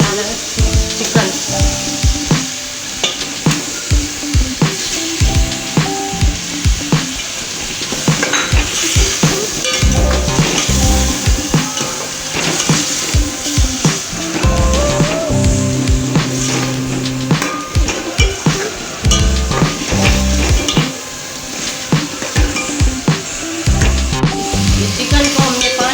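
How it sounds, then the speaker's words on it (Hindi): Chicken fries in a pan for sarson ka saag, sizzling loudly and continuously while a utensil stirs and scrapes against the pan with frequent clinks. "चिकन को भी फ्राई करेंगे"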